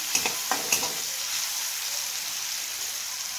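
Tomatoes sauté in a hot pan for a chicken dish, giving a steady, close sizzling hiss with a few soft stirring knocks near the start; no one speaks.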